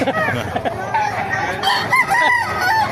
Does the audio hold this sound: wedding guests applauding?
no